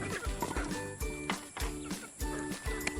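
Rhode Island Red and native crossbreed chickens calling in short repeated clucks and squawks at close range, with rhythmic bursts and faint background noise.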